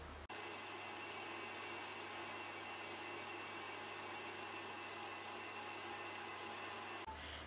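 Electric mixer running on high as it beats chilled filling into buttercream, a steady close whirring drone that holds for about seven seconds between abrupt start and stop clicks.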